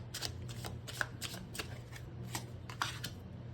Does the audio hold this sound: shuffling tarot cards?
yes